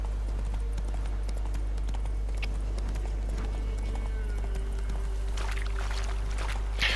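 Horse hooves clip-clop in a steady gait while riding through a Witcher 3 game town, with a low constant drone and ambient game sounds underneath.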